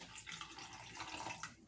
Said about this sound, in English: we're going to start with 3 ounces of water,